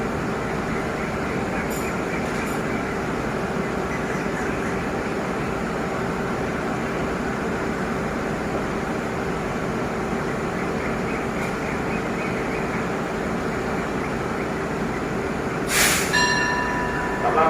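A passenger express train stands at a station platform in Ratchaburi, Thailand, with a steady rumble of the locomotive and carriages throughout and a brief hiss of air or brakes near the end.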